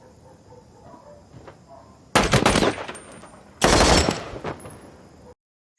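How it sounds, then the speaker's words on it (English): Two loud, close bursts of machine gun fire as warning shots in the war drama series Generation Kill, each lasting over a second, separated by quiet ambience and followed by an abrupt cut to silence. "Do they understand the warning shots?"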